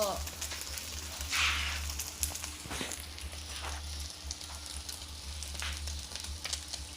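An egg fries in a hot pan of oil until crisp, giving a steady, close sizzle and crackle across the whole stretch with a low background hum.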